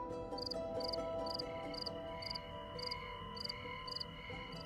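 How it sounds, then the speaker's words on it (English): Crickets chirp at night in a backyard, sending out evenly spaced, high, pulsing bursts at a regular rhythm over a quiet, hushed background. "a recording engineer on a starry night recorded crickets in his backyard. And this is the sound he captured."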